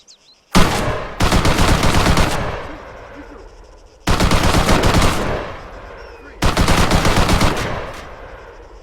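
A light machine gun in a video game fires three long, loud sustained bursts, each a rapid continuous rattle of shots lasting a second or two, separated by short pauses with faint voices underneath.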